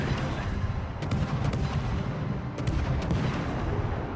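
Naval guns firing at a target in a destroyer battle video game, a dense string of booming shots and rumbling blasts that follow one another steadily and never let up.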